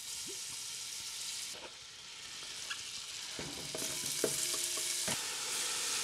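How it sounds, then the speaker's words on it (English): Pestata sizzling in butter and oil in a heavy pan for white bolognese, with a steady hiss that briefly dips, then swells again, punctuated by occasional spoon taps and stirring clicks. "A little bit of butter and oil to begin the pestata."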